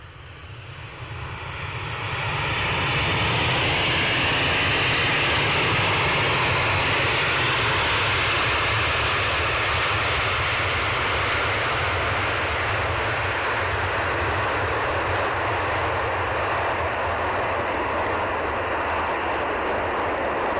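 An EasyJet airliner at Edinburgh airport builds from a low hum to a loud, sustained engine roar within a few seconds, then holds steady and close with no voices.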